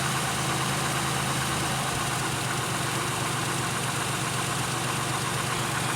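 A Pontiac Aztek engine idles steadily during a cylinder disable test for a rich-condition fault, a continuous close, even rumble with no talking.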